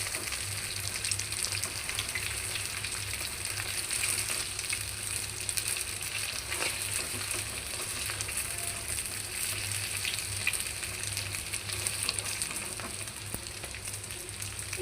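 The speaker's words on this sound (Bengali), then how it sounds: "এটা কিন্তু খুব ভালো করে ভাজতে হবে" Lentil cakes (dhoka) frying in hot oil: a continuous dense crackling sizzle, even and unbroken throughout, heard close but at a modest level over a low hum.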